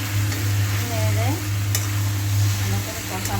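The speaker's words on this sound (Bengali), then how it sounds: "দিয়ে আবার আরেকবার ভালো করে নেড়ে দেবো।" Chopped tomatoes and chicken being stirred as they fry in a small pan, a steady loud close sizzle with a low continuous hum and occasional scraping of the spoon against the pan.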